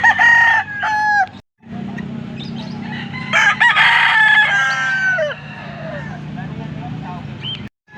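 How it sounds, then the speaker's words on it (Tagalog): Chickens and roosters at a farm in Angeles, Pampanga crow and cluck repeatedly, close and loud, with several overlapping calls and people talking in between. "Ayan, oh, mga manok."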